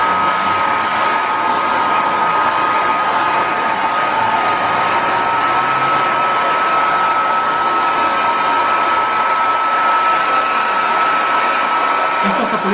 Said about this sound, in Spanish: vamos a darle con la pistola de aire.